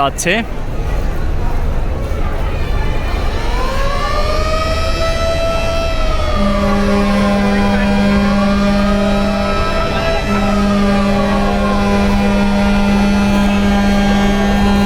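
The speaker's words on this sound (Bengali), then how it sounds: "অ্যাডভেঞ্চার নয় লঞ্চ দেখতে পাচ্ছেন যে কি বিপুল পরিমাণে যাত্রী নিয়ে" The Adventure 9 passenger launch, a river ferry, moves along the river with a loud steady engine roar. A long wavering horn blast rises over it, and a sustained low tone holds through the second half.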